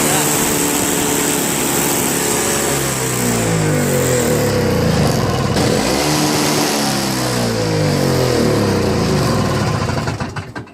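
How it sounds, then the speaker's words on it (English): A Toro Snow Commander snowblower engine runs steadily just after start-up, loud and close, its wavering revs rising and falling across the clip before cutting off at the end, with a voice speaking over it. "I have started up and got everything to run."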